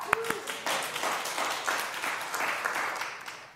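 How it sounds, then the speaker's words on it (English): An audience at an annual meeting breaks into applause after a short tap, with dense clapping that holds steady and close for about three seconds. "Let's have a round of applause."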